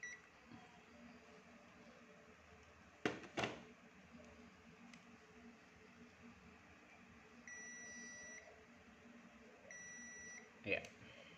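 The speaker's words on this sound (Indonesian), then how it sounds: "kita akan menggunakan skala buzzer ya, pengetes short," A few short electronic multimeter continuity beeps sound at intervals over a quiet background, with some faint clicks between them.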